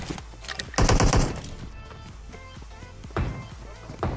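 Rapid automatic gunfire rattles in short loud bursts in a PUBG battle on the Miramar desert map, with gun bursts and thuds separated by brief pauses.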